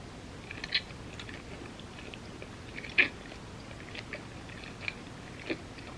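Quiet chewing of a spicy vegan ziti pasta dish, with a few soft, wet bites and crunches spaced out over a low background hum.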